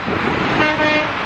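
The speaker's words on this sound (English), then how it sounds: "See if we can pull the horn." Truck air horn blaring in one sustained loud honk on a road, held steadily across the whole moment over traffic noise.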